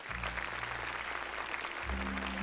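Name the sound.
clapping in a film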